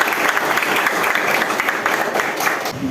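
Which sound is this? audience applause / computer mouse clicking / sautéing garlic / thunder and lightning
audience applause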